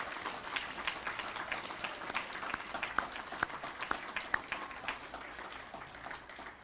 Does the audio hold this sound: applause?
yes